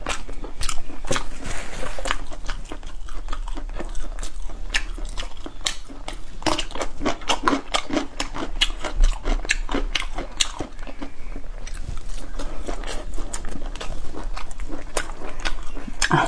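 Someone biting and chewing a piece of food, close crunchy bites and chewing in a quick irregular rhythm, mostly alone with no clear talk.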